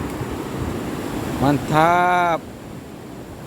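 Big ocean waves surge during sea fishing for humphead wrasse, a steady broadband rush of surf and wind noise dominating the recording while someone speaks briefly partway through.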